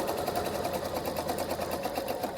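Steady close-up whir of a sewing machine running continuously while stitching along an interfaced shirt cuff, its motor hum and rapid needle rhythm even throughout with no talking.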